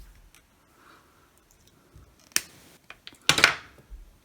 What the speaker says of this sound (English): and then trim the excess off